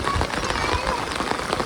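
Heavy rain pours down outside a village house, making a dense, constant patter and hiss on the surfaces around it that carries on throughout.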